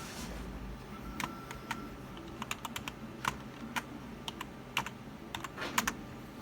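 Scattered keystrokes on a computer keyboard, irregular clicks with a few quick clusters, close and clear over a low background hum.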